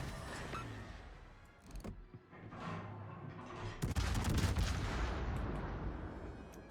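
Heavy naval gunfire from warships in World of Warships, including a Hindenburg battle cruiser: repeated booming salvos and shell impacts, a sharp loud burst near the middle followed by sustained rumbling artillery.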